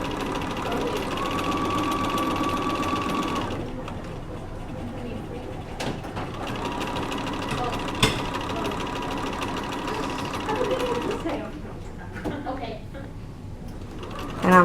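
A sewing machine stitches a hem with back stitching, running in a close, steady mechanical whir marked by a few sharp clicks. Its pace shifts briefly partway through, then it slows and thins toward the end.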